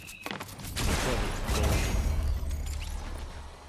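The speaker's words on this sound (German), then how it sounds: "Ja, die wird schon wieder massiv angeschossen." Dense bursts of gunfire in the video game Fortnite, loud and continuous, with impact crashes and whooshes layered over a low rumble during a chaotic firefight.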